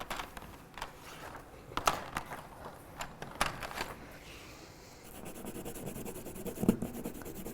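A coloured pencil rubbing across paper to make rubbings: repeated scratchy strokes with short pauses, close and fairly quiet, ending in a more continuous back-and-forth scrubbing.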